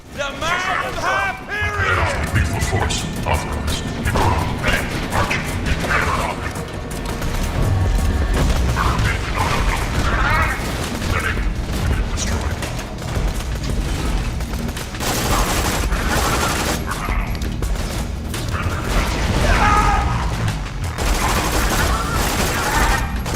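Repeated gunfire in Borderlands 2 during the Bloodwing boss fight, with booms and crashing impacts in rapid volleys. Someone talks over the shooting for much of the stretch.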